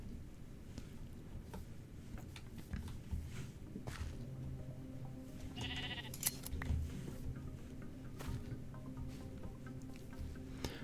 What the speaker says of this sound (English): I know there's another pink sheep somewhere.